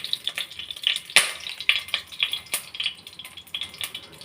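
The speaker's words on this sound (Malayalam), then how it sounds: "കടുക് ചൂടായി, കടുകിടാം." Mustard seeds spluttering and popping in hot oil in a pan: rapid, irregular crackles and sharp pops close by, with no one talking.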